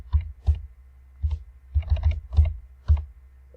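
Typing on a computer keyboard into the Desmos graphing calculator: about seven distinct key presses, close and moderately loud, in an irregular rhythm with short pauses, over a faint low hum.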